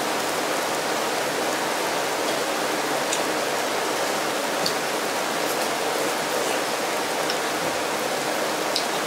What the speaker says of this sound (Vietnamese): Mọi người có thấy mưa càng ngày càng to, mưa đó